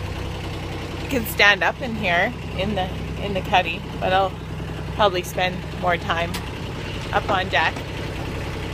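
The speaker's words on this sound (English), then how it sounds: "And what you hear there is the engine." A sailboat's engine runs with a steady low droning hum throughout, continuous and moderately close beneath someone talking on board.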